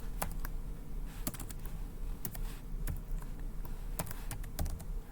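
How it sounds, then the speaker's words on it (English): Code being typed on a computer keyboard, a quiet run of irregular key clicks with occasional sharper taps, steady and close with no talking. "We can type some code here like print"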